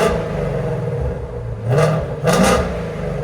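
A Ford Mustang V8 engine, either a GT350 or a Dark Horse, idling with a rough, rumbling burble, then blipped twice to surging revs that drop quickly back to idle, heard close up.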